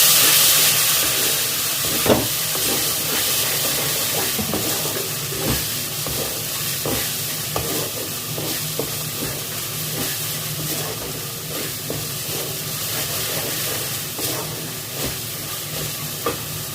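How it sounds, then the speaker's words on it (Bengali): Spice paste for a prawn malai curry sautéing in a pan with a little water, a continuous hissing sizzle with scattered soft scrapes and stirring clatters, close and fairly loud, with no speech. "অল্প অল্প জল দিয়ে ভালো করে মশলাটা কষে নিই"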